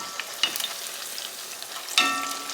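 A battered pork chop fries in oil with a soft, continuous sizzle, broken by two brief utensil clacks against the pan.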